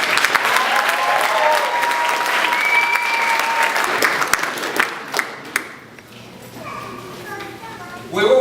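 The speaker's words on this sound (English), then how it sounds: "we should give her a big round of applause" An audience at a presentation evening in Woolwich Barracks gives the Mayoress a sustained round of applause, loud and dense, fading after several seconds into quieter room noise with someone speaking.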